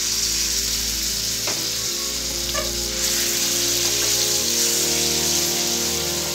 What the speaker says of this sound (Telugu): తాలింపు ఫ్రై అయిన తర్వాత మనం ముందుగా నూరుకున్న పచ్చడి వేసుకోవాలి।